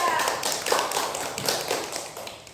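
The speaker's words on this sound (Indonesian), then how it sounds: "kita beri aplaus untuk kelompok 3" A classroom group gives a round of applause for a presenting team during a teaching performance exam, a busy patter of many hands clapping close by for a couple of seconds.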